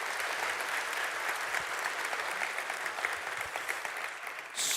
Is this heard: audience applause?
yes